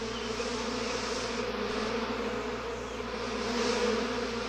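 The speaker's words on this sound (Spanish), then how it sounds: "¡Fuera de mi azúcar, maldita abeja mala!" Cartoon bees swarm around a sugar supply with a thick, continuous droning buzz that holds steady and close for several seconds, rising slightly near the end.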